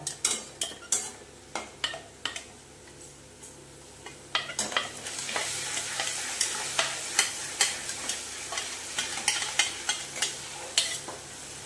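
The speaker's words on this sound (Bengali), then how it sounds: "এইবারে এই আদা রসুনের পেস্টটা দিয়ে ভালো মতন কষে নেবে" Ginger-garlic paste and onions sizzle in a pan while a spoon stirs with regular scraping strokes, steady frying hiss underneath and sharp clinks repeating roughly every half second, close and moderately loud.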